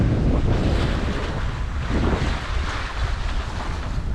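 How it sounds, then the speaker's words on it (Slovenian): Steady wind buffets a sailing boat at sea on a passage toward Sri Lanka and the Maldives, with ocean waves rushing and sloshing against the hull in a constant roar and no voices. "Se kaj guncava spet malo, so se valovi naredili."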